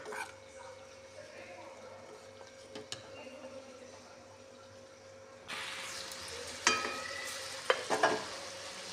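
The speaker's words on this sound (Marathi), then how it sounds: "तेलात मांद भाजून घ्यायचं. ते तेल भरपूर सुटतं." Mutton frying in oil with masala gives a steady low sizzle for about five seconds, then a louder, brighter frying hiss with a few sharp stirring clatters near the end. No one speaks.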